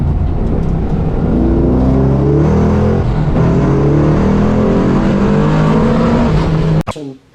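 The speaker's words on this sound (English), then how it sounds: "Out on the track too with our car." A VE/VF Commodore fitted with performance differential upgrades runs hard on a race track, its engine note loud, steady and continuous with shifting pitch, before cutting off abruptly near the end.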